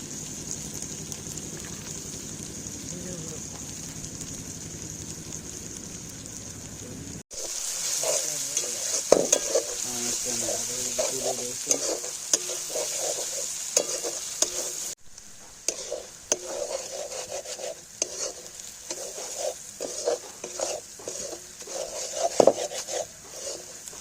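Chopped garlic, ginger and green chilli frying for a country chicken curry sizzle softly in a pan, with repeated scraping and clacking of a stirring spoon, fairly close and quiet throughout.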